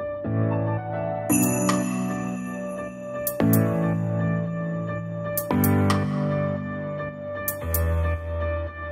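A bell rings repeatedly in a hotel hallway during a wake-up prank, sounding in four bright clusters of chiming, tinkling strikes about two seconds apart, each leaving a ringing decay.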